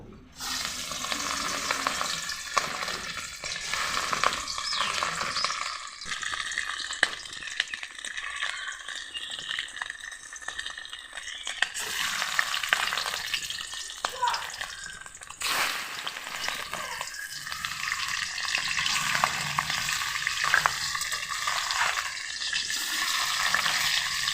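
Hilsa fish pieces fry in hot mustard oil in a heated kadai, giving a steady, dense sizzle with crackling spatters that runs throughout at close range and moderate loudness, with no talking.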